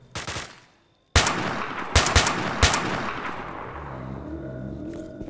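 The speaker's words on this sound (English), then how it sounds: "He's shooting in an inappropriate place." An enemy fires in STALKER: Shadow of Chernobyl, one short shot followed by a few loud, sharp reports ringing off walls, then fading into a low ambient hum.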